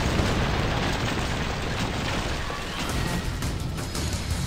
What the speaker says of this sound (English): Yurik, hit that pillar with your magic